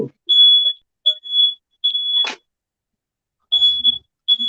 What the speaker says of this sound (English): That's me alarm.